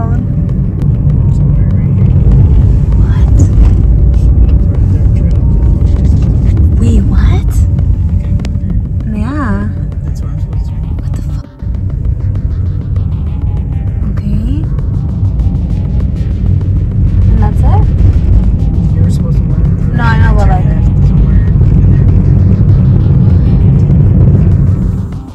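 A car drives at night past a cemetery, giving a constant loud road rumble and engine drone from inside the cabin, with people talking over it throughout.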